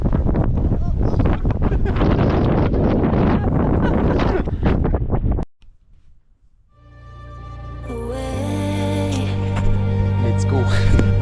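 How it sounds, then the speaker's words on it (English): Heavy wind buffets the microphone high in the Swiss mountains near Saxerlücke, loud and roaring for about five seconds, then drops away suddenly to near silence as music fades in. "we have to go down out of the wind a bit"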